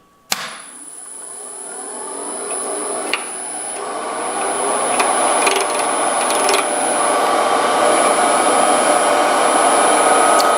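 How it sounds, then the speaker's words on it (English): A spindle roughing gouge cuts a wooden pen blank spinning on a lathe, a steady close rasping hiss that starts with a sharp catch and grows slightly louder and fuller over ten seconds. "I'll just take away bulk of it with this spindle roughing gouge."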